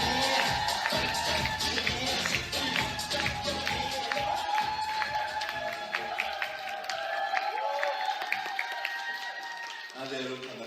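A lecture hall audience cheering, whooping and clapping loudly as a professor walks in, with excited voices throughout and the clamour easing off toward the end.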